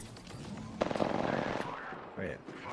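Gunfire rattles in a battle royale video game, with a quick burst of rapid shots in the middle, loud and close, over a busy background of game noise and a voice.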